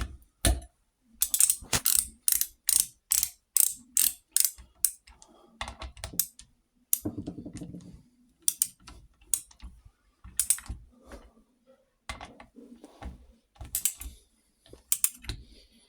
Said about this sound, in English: Then I'm going to torque those nuts up to 15 foot-pounds.